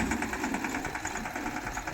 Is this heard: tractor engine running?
yes